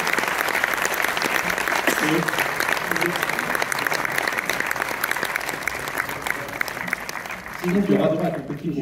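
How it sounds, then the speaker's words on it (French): An audience applauds loudly and steadily at a film premiere in Orléans, dense clapping filling the room, with a few voices rising near the end. "Je vous demande de l'applaudir très très fort."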